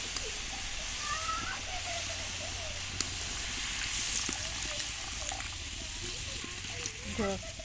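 Water poured into hot spice paste frying in oil for a fish curry sets off a steady, close hiss and sizzle with faint bubbling, while a voice talks over it.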